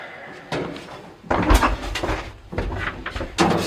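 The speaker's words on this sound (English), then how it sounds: "And you have to close the doors yourself and hit the floor number." Manual doors of an old apartment elevator in Romania are opened and closed, giving several clattering metallic slides and bangs in quick succession, fairly close and loud, with no voices.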